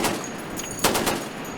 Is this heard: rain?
no